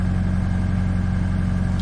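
Mitsubishi Pajero engine with a stalling problem running steadily up close, a continuous low idle hum with no clear rev change over the short stretch.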